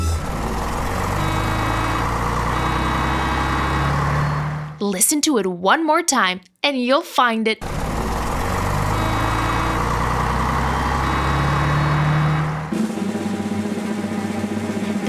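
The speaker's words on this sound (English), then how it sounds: "The vehicle hiding is a city bus." A city bus engine running steadily, a low rumbling idle with a faint high whine, heard in two long stretches separated by a burst of lively music and a voice talking.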